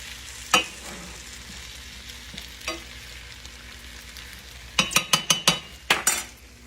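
A whole onion and five cut-up potatoes smother-frying in a pan, with a soft steady sizzle, a couple of isolated utensil clinks, then a quick burst of repeated spatula scrapes and clanks against the pan.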